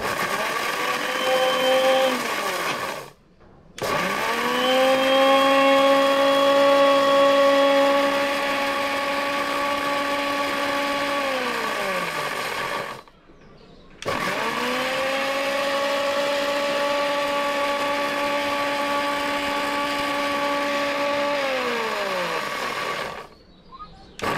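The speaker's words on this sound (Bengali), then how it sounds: "আমরা এবার ফাইনালি মরিচ দিচ্ছি। লক, দেখা যাক মরিচটা হতে কত সময় লাগে।" Mixer grinder grinding chillies: two long loud whirring runs, each winding up and then down with a brief silent pause between them, a sharp high motor whine over a rattling grind.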